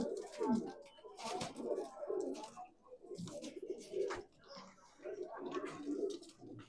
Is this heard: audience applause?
no